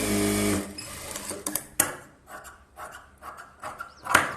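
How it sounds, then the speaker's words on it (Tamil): A sewing machine runs an extra seam on a blouse, a close mechanical stitching whir that starts steady, then breaks into short bursts with clicks and handling noises. "இப்போ நம்ம இதில் போடுற எக்ஸ்ட்ரா தையல் போட்டுக்கலாம்."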